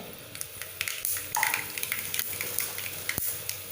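Mustard seeds crackling in hot oil for tempering, a close run of quick pops and spits over a faint hiss, with a few sharp clicks from the pan.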